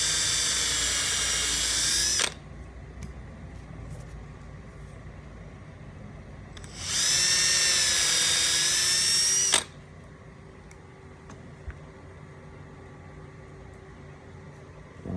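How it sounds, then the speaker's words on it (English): A power drill whines at high speed in two bursts of about two and three seconds, pre-drilling screw holes in a 10-inch subwoofer adapter ring, with quiet pauses and faint handling sounds between. "Pre-drill this a little bit further in."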